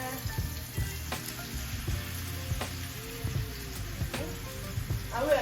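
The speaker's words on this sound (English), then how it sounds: "And we're just gonna let them sear and get to a boil." Stuffed chicken breasts sear in a hot pan, a steady close sizzle running throughout with a few sharp clicks and pops over the frying hiss.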